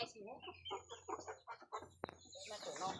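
Native chickens clucking in a busy, overlapping flurry close by on a farm, with a sharp click partway through and a wash of noise near the end.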